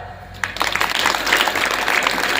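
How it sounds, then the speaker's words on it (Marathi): A live audience at a Marathi comedy poetry show breaks into applause after a brief pause, a dense, steady clapping that holds loud and continuous to the end. "आता तुम्ही टाळ्या वाजवल्या"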